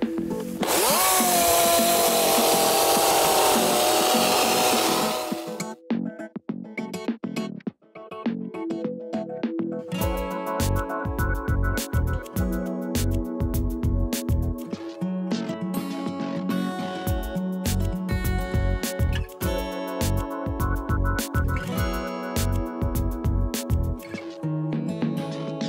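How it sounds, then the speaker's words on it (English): Chainsaw cutting large holes through lake ice for setting an ice fishing net; a loud continuous engine whine opens the clip, then gives way to repeated rough bursts of cutting and revving close by. "After using a chainsaw to cut large holes for each end of your net"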